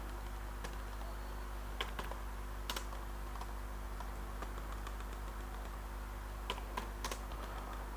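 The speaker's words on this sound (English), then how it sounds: "So I will type here elif." Keys clack on a computer keyboard while Python code is typed, quick irregular taps in short bursts over a low steady hum, with no talking.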